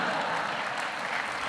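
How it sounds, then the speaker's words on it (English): Brief, steady applause rises from a theater audience at a talk on film scores, a soft, even wash of clapping with no voices over it. "You can clap for that score too if you want to."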